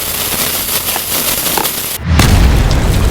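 A Diwali firecracker bomb goes off with a single loud, sharp boom that gives way to a rumbling, crackling tail, following a steady hiss of background noise.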